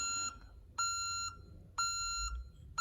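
An Ademco 128BPT security keypad's exit-delay beep chirps three times at an even pace, each tone held for about half a second, clear and close with quiet gaps.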